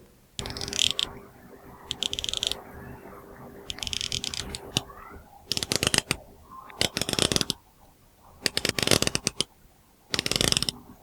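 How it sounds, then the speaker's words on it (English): Ratcheting dive watch bezels on a Casio Duro and a Hyperlume are rotated in close, crisp bursts of rapid clicking, about six separate runs of dense ticks with quiet pauses between. "Here is a sound test of the Duro and the Hyperlume's ratcheting bezel."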